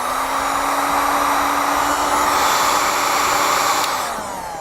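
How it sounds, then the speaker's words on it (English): A heat gun blows a steady, loud whooshing roar close by while shrinking heat-shrink tubing over a crimped wire connector during a Curt T-connector trailer wiring harness install on a 2017 Toyota, holding for several seconds before the pitch dips near the end. "I like to use a heat gun, and we'll shrink that down."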